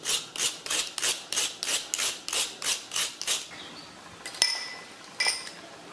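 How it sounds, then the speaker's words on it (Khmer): Coconut flesh is scraped on a grater for steamed bean cake, about a dozen close, regular rasping strokes at a brisk rhythm, followed by a pause and a couple of sharp knocks. "ឥឡូវយើងចាប់ផ្ដើមកោសដូងនេះដើម្បីយើងមកលាយជាមួយនឹងសណ្ដែកចំហុយរបស់យើង"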